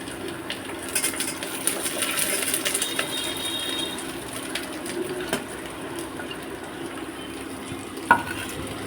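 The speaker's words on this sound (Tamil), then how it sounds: "இப்போ நம்ம வச்சுருக்க எல்லா காயும் போட்டுக்கலாம்" Chopped vegetables are tossed into a pan with softened onions and sautéed for chicken soup: a busy, continuous sizzle with scraping stirs and scattered metallic clatters, and one sharp knock near the end.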